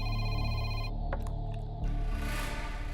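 A mobile phone rings from an incoming call in a Telugu action film scene, a bright electronic ringtone playing loudly, then cutting off and giving way to a different musical tone.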